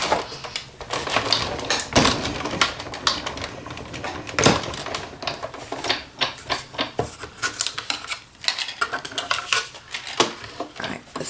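Big Shot die-cutting machine cranking Framelits dies through cardstock, a close run of clattering, rattling mechanical clicks and thumps with uneven rhythm and brief pauses.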